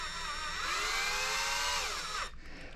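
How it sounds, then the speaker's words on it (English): A power drill bores through the polymer lower receiver of an HBI Scorpion 3 Plus while fitting a takedown pin, giving a loud, close, steady whine with rising and falling pitch that stops abruptly near the end. "drill through the lower receiver"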